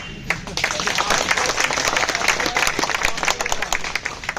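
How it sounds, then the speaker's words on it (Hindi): Applause from the crowd at a sit-in protest outside a selection commission, sustained clapping filling the whole stretch at moderate loudness, with some voices mixed in. "कमजोर ताली है"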